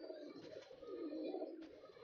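Female tournament racing pigeons in a loft coo softly, low throaty rolling calls rising and falling, faint and close, with no talking over them.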